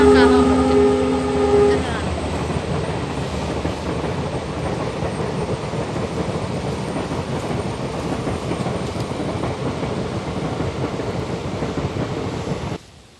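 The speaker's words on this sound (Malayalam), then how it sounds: "വണ്ടി പോകുന്ന ട്രെയിൻ പോകുന്നുണ്ട്." A train passes near a house garden: a tonal horn sounds at the start, followed by a steady, loud rolling rumble of wheels and cars that continues for over ten seconds before cutting off.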